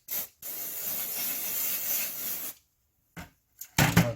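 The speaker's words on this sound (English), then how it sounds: "just kind of spray this all down with some carb cleaner" Carb cleaner sprayed from an aerosol can onto Briggs and Stratton carburetor parts: a short hiss, then a long steady spray of about two seconds, followed by a few brief bursts, close by.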